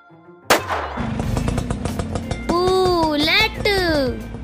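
A scooter engine starts with a sudden thump, then settles into a rapid, rhythmic putter. Loud, swooping voice-like tones ride over it in two sliding bursts.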